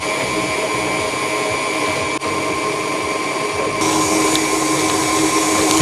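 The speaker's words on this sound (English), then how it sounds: "you probably can't hear me over the stand mixer." Stand mixer whirring steadily at medium-high speed while making a French cream-cheese dessert, a loud, constant motor hum and whine that grows slightly louder partway through, close and without talk.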